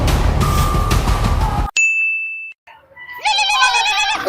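A phone rings with a short tonal electronic chime after a noisy outdoor stretch, followed by a warbling, multi-tone ringtone melody that plays loudly and clearly near the end.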